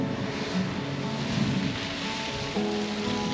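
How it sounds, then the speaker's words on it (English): Ocean water surges and roars against cliffs on the coast at Quobba, Western Australia, a dense, continuous rushing wash heard up close and steady throughout, with wind buffeting the microphone. "the water is just absolutely roaring."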